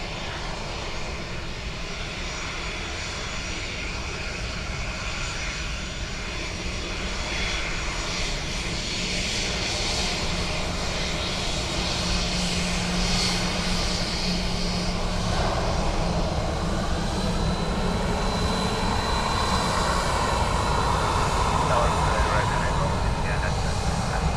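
A Ryanair jet arriving at Dublin Airport, heard as a steady, loud engine roar that builds gradually over the whole stretch, with faint voices in the background.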